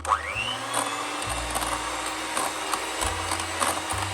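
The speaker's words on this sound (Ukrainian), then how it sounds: "Крем збиваємо на низьких оборотах для того, щоб не перебити його" An electric mixer whips cream steadily at low speed, its motor pitch stepping up and down as it runs, with faint clatter against a bowl.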